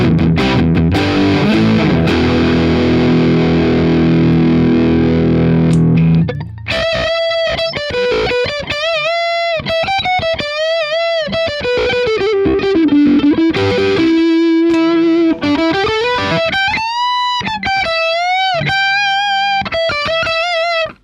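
High-gain distorted electric guitar through a Dark Terror amp: a dense, crunchy chordal passage gives way to sustained single-note lead lines with bends and vibrato, loud and close throughout.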